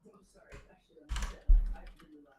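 Computer keyboard typing comes in a few quick, close clicks and clatters, sparse and fairly quiet, with a louder burst of keystrokes near the end.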